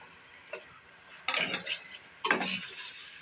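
Tomatoes going into fried spices in a pan for a chicken, turnip and spinach curry: two bursts of scraping, stirring and sizzling, each building up and fading, over quiet background.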